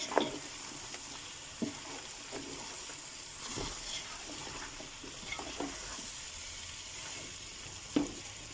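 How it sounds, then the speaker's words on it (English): Tomatoes, thyme, garlic and ginger frying together in a pan for a mutton bunny chow gravy, a low steady sizzle broken by occasional spoon knocks and stirring scrapes, quiet and close. "I'm going to be dropping in my tomatoes, my thyme, my garlic and ginger all at once, and we're going to give this a stir."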